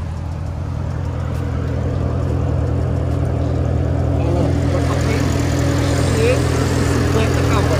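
Porsche Panamera with a 4.8-litre twin-turbo V8, a steady deep engine drone with a strong low hum holding throughout, close and continuous with no clear speech.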